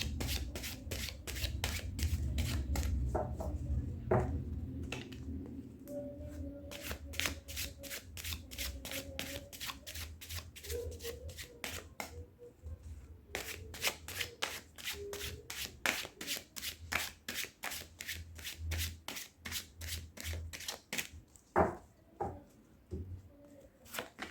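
A deck of tarot-style cards being shuffled by hand, long run of rapid riffling flutters and soft rubbing at close range, steady and quiet with a low background hum, no talk.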